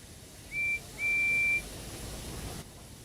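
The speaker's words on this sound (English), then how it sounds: "the guard's whistle blew, and the two engines set off." A railway guard's whistle sounds two shrill blasts, a short one then a longer one, clear over a low background hiss.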